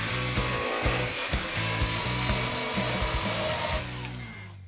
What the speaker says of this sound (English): Then we'll switch over to the bristle disc to do a little bit of polishing.